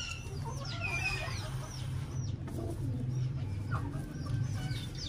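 Pigeons cooing in a loft, low soft rumbling coos repeating steadily and close, with sharper chirps from other birds over the top.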